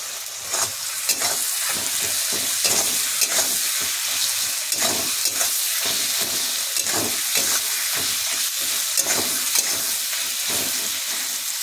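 Chopped tomatoes stirred into frying onions in a pan for a Rupchanda fish jhal, giving a steady loud sizzle with repeated scraping strokes of the spoon throughout and no talking.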